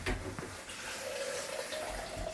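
A kitchen tap runs water into a container for a breakfast drink, a steady close hiss and splash with a couple of soft knocks at the start and end.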